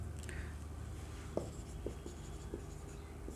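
Pen on paper writing a maths calculation, faint soft strokes and light taps spaced irregularly over a quiet room background, with no talk.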